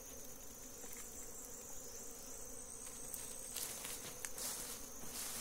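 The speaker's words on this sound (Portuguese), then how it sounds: "Muita abelha, né?" Dense swarm of honeybees hums continuously during transfer from a nucleus box to a standard hive, a steady faint-to-moderate buzz with occasional closer individual bees passing near.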